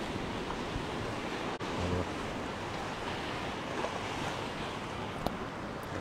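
Steady roar of sea surf around a huge pier jutting out into the sea at Side, Turkey, with constant wind noise over the microphone and no speech.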